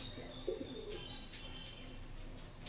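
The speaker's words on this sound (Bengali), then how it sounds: "খুব সুন্দর পায়রা।" A high-flying breeding pigeon gives a brief, soft coo close by against a faint background, with a few light chirps after it.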